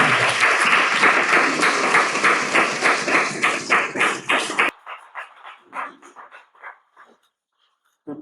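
A church congregation claps loudly together at a Sunday service, dense continuous applause that stops abruptly, followed by a few scattered trailing claps fading into silence.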